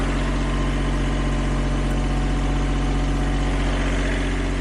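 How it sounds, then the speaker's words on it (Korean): A used mini excavator's diesel engine idles steadily with a deep, even rumble and constant mechanical vibration, no voices heard. "엔진 소리도 굉장히 양호해 보이고"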